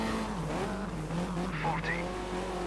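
A little Mini Cooper S engine drones in the Dirt 3 racing game, and a short tire squeal cuts in near the end over the steady revving, with faint talk underneath.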